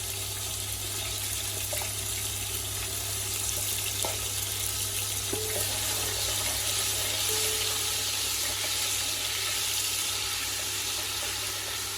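Ginger garlic paste and garam masala frying in hot oil for a kofta curry, giving a continuous close sizzle with a low steady hum beneath, unbroken throughout.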